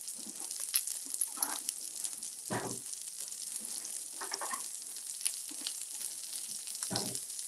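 Onions sizzle and crackle in a hot pan on a burger griddle, a steady close frying hiss with scattered louder pops and a few scraping bursts throughout.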